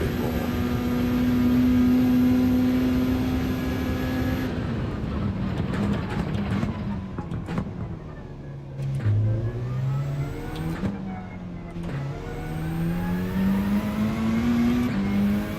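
A Bugatti Veyron engine in a racing video game revs hard, a loud sustained tone that holds high and then swoops down and back up through several dips and climbs.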